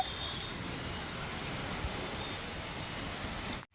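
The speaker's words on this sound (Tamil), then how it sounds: "இப்போ மழை வந்துருச்சு" Steady rain falls outdoors at a home garden porch, a dense, even hiss of drops on surfaces that holds level throughout before cutting off abruptly at the end.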